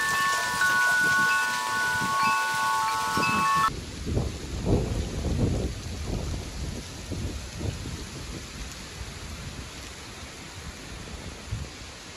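Strong autumn wind roars through trees as a broad, steady outdoor rush with gusty surges, loud and continuous with no voices.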